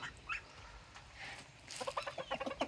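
A rooster loose among feeding chickens gives a run of quick, rhythmic clucks toward the end, faint at first and then closer and clearer over a soft outdoor background.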